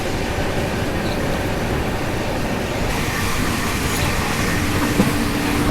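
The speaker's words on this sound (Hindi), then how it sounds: "अब ये कौन सी ट्रेन क्रॉस हो रही है" A train rolls past on a railway track between Jaipur and Mumbai with a steady, loud, broadband rumble and rattle that stays constant throughout. No clear clacks stand out.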